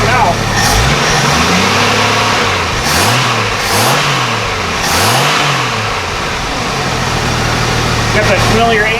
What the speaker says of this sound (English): Got that familiar AMC6 sound to it.